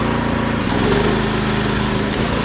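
A mini tractor's small engine drones steadily as it rolls downhill on its rear wheels in a wheelie, a close, buzzing mower-like hum with slight wavering and no talk.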